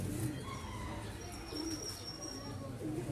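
Flying pigeons of a Lahore breeder coo in soft, repeated low calls from close by, over a steady hum of background noise, with faint other bird chirps.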